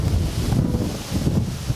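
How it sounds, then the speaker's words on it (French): Strong gusts buffet a microphone on a zipline outdoors, a continuous low rumbling roar of wind noise that swells and dips without any voices. "Il y a beaucoup de vent."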